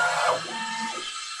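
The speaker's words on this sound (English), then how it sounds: "So now it's just doing this bed leveling." Bambu X1C 3D printer running bed leveling, heard close as a brief whirring motor tone that glides up and down over about a second and a half.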